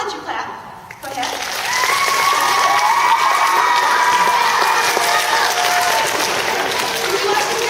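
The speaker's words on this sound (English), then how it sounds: "I'll let you clap." Audience at a Veterans Day event claps loudly and steadily after a song, with cheering and whistles mixed into the dense, sustained applause.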